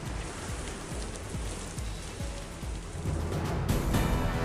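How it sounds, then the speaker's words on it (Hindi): Steady, dense rainfall with strong wind in Moga, Punjab, patters continuously, growing a bit heavier toward the end, with no voices over it. "पंजाब के मोगा में तेज आंधी के साथ झमाझम बारिश"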